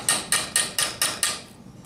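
Six sharp metallic hammer strikes on a hollow punch over wood, working on a fuel tank, land in a steady rhythm, close and ringing, then stop.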